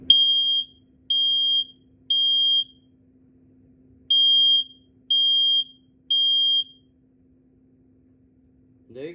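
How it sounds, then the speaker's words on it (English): A First Alert 3120B dual sensor smoke alarm under test sounds its loud, shrill beeps in two groups of three, close and clear over a faint steady hum. "That's the First Alert 3120B."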